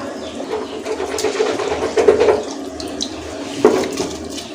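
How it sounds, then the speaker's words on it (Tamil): Rice being added to a pot of boiling water for chicken tikka biryani makes a close, bubbling and splashing wash of water with a few brief louder splashes. "தண்ணி நல்லா கொதிக்குது ஸோ இந்த ஸ்டேஜில் வச்சுருக்க ரைஸ் எல்லாத்தையுமே சேர்த்துருவோம்"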